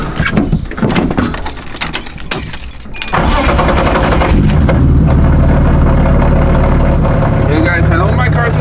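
A BMW engine starts and runs loud, with a brief rattle and clatter before a sustained, heavy rumbling idle that stays close and dominant, with a low drone underneath.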